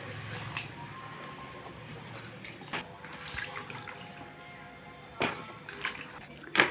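Green chillies for roadside-style mirchi bajji being rinsed by hand in water, with irregular splashes, squelches and sloshing, a few sharper splashes near the end, close and moderately loud.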